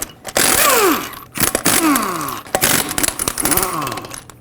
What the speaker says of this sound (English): Take a 22mm socket and remove all 6 of your lug nuts.